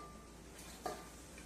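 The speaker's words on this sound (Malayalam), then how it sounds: "ഇതെല്ലാം കൂടെ അതിലിട്ടിട്ട് നന്നായിട്ട് അങ്ങ് ഇളക്കി യോജിപ്പിക്കുക" Cabbage vada mixture stirred in a bowl to combine the ingredients, heard as a faint, soft scraping with one brief louder scrape partway through, no talking.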